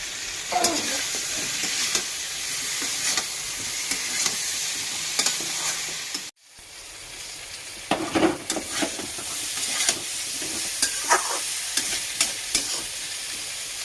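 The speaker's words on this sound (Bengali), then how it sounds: "ভালো করে একটু ভাজা হয়ে গেছে জল দিয়ে দিচ্ছি" Ground spices frying in oil in a pan for a fish curry with drumsticks and potatoes, a continuous close sizzle with scattered crackles and stirring clicks, briefly cut off midway then resuming.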